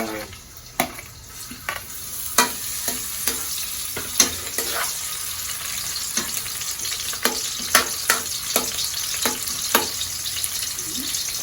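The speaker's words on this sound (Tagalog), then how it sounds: "Umpisahan na natin maggisa" Ginger sizzles in hot oil in a pan for Bopis of pork lungs and heart, a loud steady frying hiss broken by frequent sharp scrapes and taps of a spatula stirring.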